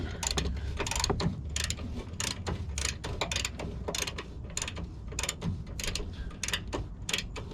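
A ratchet wrench tightens bolts on the front end of a 2019-style Dodge Ram 1500 4x4 with a 5.7-liter engine, its pawl clicking in steady, rapid bursts up close with no talk.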